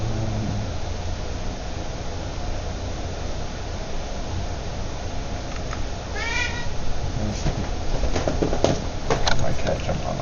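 A pet cat gives a single short meow midway through, fairly faint beneath a steady indoor hum at a home desk, with a few light clicks and knocks after it.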